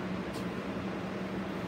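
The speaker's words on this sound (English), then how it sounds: "There's three exhaust fans working." Three barn exhaust fans run steadily in a newly built calf barn with cross tube ventilation, giving a constant low hum and broadband airy whir with no pauses.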